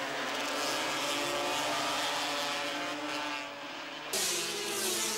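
Racing motorcycles lap the twisty Salzburgring circuit at the 1985 Austrian Grand Prix, a steady blended engine roar from the pack that dips briefly and then surges back loud.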